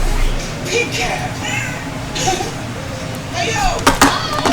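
Cartoon cat meows in an animated scene, a few short pitched cries rising and falling over busy background music and effects, with voices talking around them.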